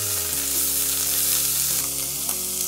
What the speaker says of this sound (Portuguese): agora eu vou adicionar o alho picado e o champignon